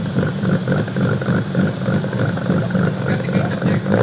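Modified diesel time attack car at a car modification competition, its engine running with a throbbing rough rumble that pulses steadily throughout, loud and close, with people talking over it.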